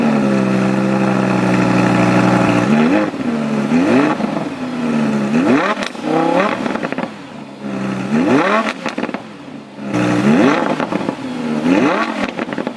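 A 2018 Audi R8 V10 Plus with quad-tip exhaust starts and idles, then blips its engine in repeated sharp revs that rise and fall, loud and close, with no talk over it.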